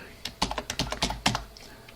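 Rapid typing on a computer keyboard at a command line, a quick irregular run of close key clicks.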